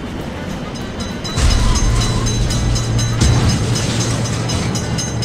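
A train passes a road-vehicle level crossing nearby, a rumble that jumps louder after a moment, steady wheel clatter and rail-joint thumps filling the air.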